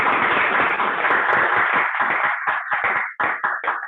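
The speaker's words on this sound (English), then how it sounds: "So let's give him a big round of applause." A round of applause at a Toastmasters meeting, dense clapping at first that thins out into scattered, separate claps before it fades.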